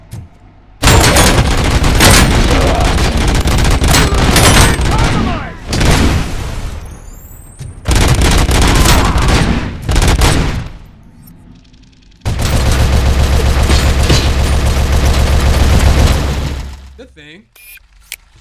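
Rapid gunfire from the video game RoboCop Rogue City, loud sustained bursts of shots in three long stretches separated by brief pauses, with booming impacts mixed in.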